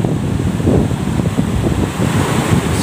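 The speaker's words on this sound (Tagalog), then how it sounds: "Alon, paghampas ng alon doon sa bato yan" Heavy sea waves crash against rocks during a strong monsoon wind, a loud, continuous roaring surge with wind buffeting the microphone throughout.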